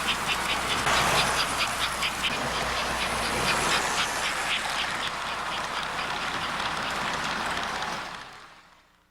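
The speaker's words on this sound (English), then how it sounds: "It featured what the Flyer catalogs referred to as that big train choo-choo" American Flyer Challenger model train making its choo-choo sound: a rhythmic chuffing hiss of rapid puffs over a steady mechanical hum, holding close and fairly loud before fading out at the end.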